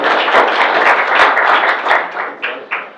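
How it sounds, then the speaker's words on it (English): A crowd applauds loudly and close by, a dense burst of clapping that thins out toward the end. "give yourselves a round of applause"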